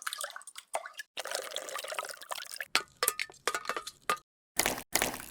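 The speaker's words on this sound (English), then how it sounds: "How about water dribbling onto a metal pan?" Water dribbling onto a metal pan, created as a generated sound effect: irregular bursts of splashing and tinny metallic drips with short silent gaps, fairly quiet and close.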